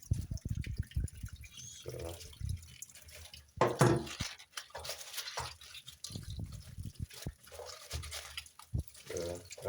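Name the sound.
tap water running while washing kale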